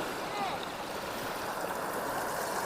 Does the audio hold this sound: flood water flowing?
yes